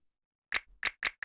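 A dry snap percussion sample fires three times in quick succession after a short silence, each hit crisp and bright, with a faint low thump between the first two.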